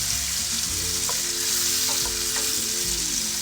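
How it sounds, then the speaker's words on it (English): Bacon frying in a pan for a beef daube Provençal, a loud, dense, continuous sizzle up close with faint scraping and shifting underneath, no voices. "Put the bacon in there."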